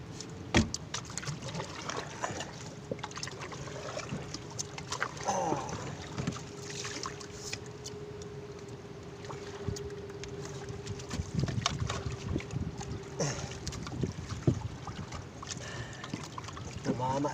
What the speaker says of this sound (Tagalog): nasa bangka po ako ngayon